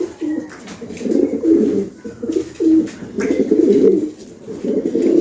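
Fancy pigeons at a pigeon farm giving repeated low, throaty coos in rolling bursts, close and clear, with overlapping birds and faint background chatter.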